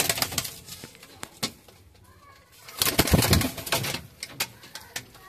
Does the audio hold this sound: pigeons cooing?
yes